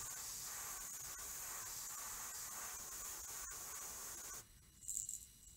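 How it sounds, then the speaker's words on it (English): Airbrush blowing plain air to dry paint on a crankbait, a soft continuous hiss up close that stops abruptly near the end, leaving faint background noise. "I'll come back and just use just the air to help dry it."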